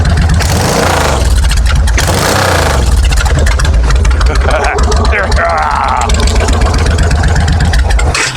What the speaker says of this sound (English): So anyway, listen to the exhaust. That's without the baffles.